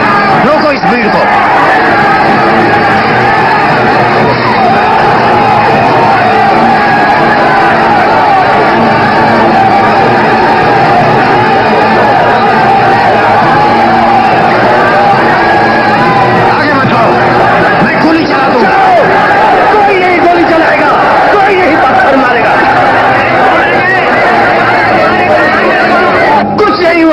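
A crowd in an old Bollywood action film scene, a loud, sustained babble of agitated voices and shouting that keeps up throughout, with individual cries rising out of the din.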